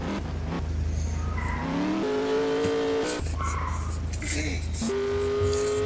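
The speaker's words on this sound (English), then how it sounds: "Everybody loves the race car." A race car in the Roblox video game drives with a steady buzzing engine tone that climbs and shifts pitch as it accelerates, with brief tire squeals and game sounds layered over a constant loud bed.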